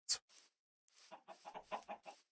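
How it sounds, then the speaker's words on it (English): Chickens in the Minecraft video game cluck in short, close bursts: a sharp squawk, a pause, then a rapid run of clucks over a quiet background, with no talking. "Look at all them chickens."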